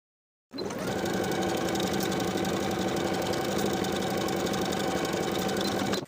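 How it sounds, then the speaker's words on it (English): A sewing machine sews pockets to the side seams of a summer jumpsuit's pants at a quarter-inch seam allowance, with a loud, steady, close motor whir and rapid needle clatter running unbroken after a short silence. "Sew each pocket in place with a 1/4 inch seam allowance."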